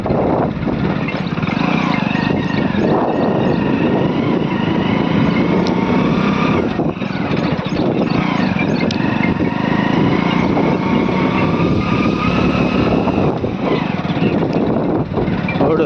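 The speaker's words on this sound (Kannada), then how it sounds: "ಇಲ್ಲಿ ನಮ್ಮ ಬೈಕ್ ಹೋಗೋದು ತುಂಬ ಕಷ್ಟವಾಗಿದೆ" A motorcycle engine labouring up a steep, high road near Uchchangidurga, Karnataka, with a loud, continuous droning roar and strained pitch wavering throughout, close to the rider with heavy wind rumble.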